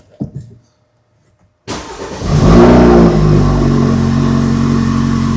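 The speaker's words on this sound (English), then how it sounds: "I'm trying to start the car." BMW 428i engine cranking and catching after a brief silence, then revving up to a loud, steady idle with a deep rumble, heard close and alone after a short sound at the start.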